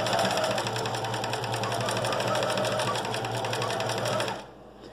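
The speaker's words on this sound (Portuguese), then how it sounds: "A gente vai fazer uma costura reta até o final dessa linha todinha." Sewing machine running a long straight seam while making a welt vest pocket, a loud, continuous rapid needle chatter close by that stops abruptly near the end.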